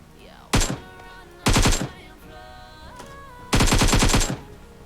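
Automatic gunfire in the mobile battle royale game PUBG Mobile, three loud rapid bursts with short pauses between them, heard alone.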